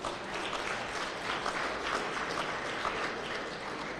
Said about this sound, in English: Quick round of applause in their absence.